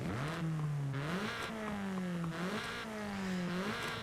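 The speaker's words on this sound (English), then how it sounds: "very typical Forza Horizon 5 4-cylinder noise" A Toyota Celica's four-cylinder engine revs repeatedly in Forza Horizon 5, its pitch climbing and dropping in several waves, loud and close with no talk over it.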